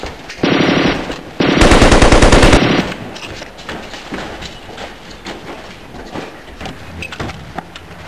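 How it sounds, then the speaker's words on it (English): Loud bursts of rapid automatic gunfire ring out in a staged arrest scene, two long rattling volleys close together, followed by a noisy, confused stretch. "Mr. Hill, shoot him!"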